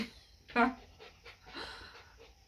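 A dog pants and breathes close by, with one louder sharp vocal burst early on followed by softer rhythmic huffs, under a speaking voice.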